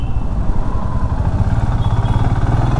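A motorcycle rides along a road through Hetauda in Nepal, its engine a steady, close, continuous drone with a rough, pulsing low rumble that holds for the whole stretch.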